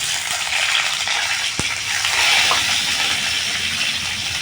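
Four eggs fry in a hot pan, giving a continuous, fairly loud, close sizzling hiss with a faint tick partway through.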